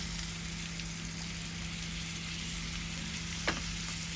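Hilsa fish curry with potatoes sizzling steadily in a pan, a constant close frying hiss with one small clink near the end.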